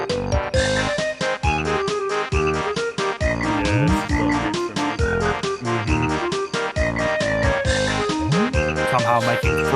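Frog croaks used as rhythmic percussion within bouncy level music from the video game Banjo-Kazooie, repeated croaks falling on the beat over a loud, continuous tune.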